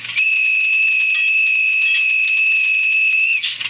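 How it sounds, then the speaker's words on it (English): A Class 37 model locomotive fitted with a DCC sound decoder gives its conductor signal: one steady, piercing high tone held for about three seconds, then cut off abruptly. "The old classic conductor signal."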